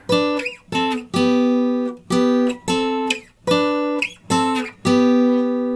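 Acoustic guitar notes hybrid-picked with fingers and pick, about eight crisp ringing attacks in a steady rhythm, played alone and close.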